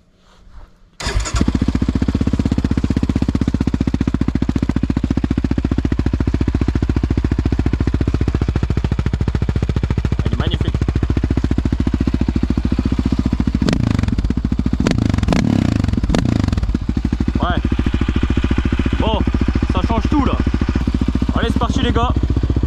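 Yamaha Raptor 700 quad fitted with a Yoshimura exhaust with the baffle removed, starting up and then running loud and close throughout, with a steady heavy rumble and revs that rise and fall.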